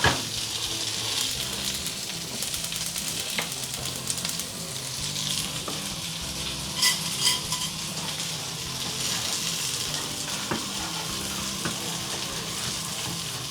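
Chicken pieces fry in a hot pan for a spicy chicken pepper steak, a steady close sizzle running throughout with occasional stirring clatter.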